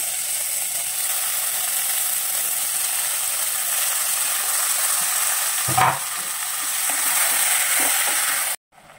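Tomatoes go into hot tempering oil for a coriander-tomato pachadi and fry with a steady, bright sizzle, a short burst of splattering as they land, then continued crackling frying with light stirring; no voices.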